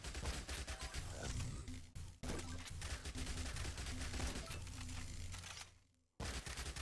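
Rapid SMG gunfire from the zombie survival game Yet Another Zombie Survivors, dense continuous bursts of shots with a brief gap near the end before firing resumes.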